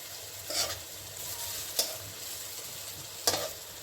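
Lentil fritters (bora) frying in oil, a steady soft sizzle with three separate scraping stirs spaced out over a few seconds, fairly quiet and close.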